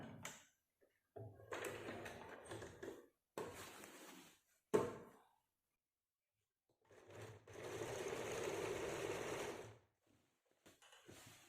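A sewing machine stitching a kameez runs in short bursts of rapid mechanical whirring, separated by pauses and clicks, then settles into one longer steady run, close up and quiet.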